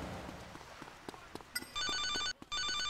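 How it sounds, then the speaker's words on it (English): Telephone ringing in the video game GTA Liberty City Stories: after a few soft clicks, a loud electronic trilling ring starts, breaks off briefly, then resumes, close and clear. "Phone call."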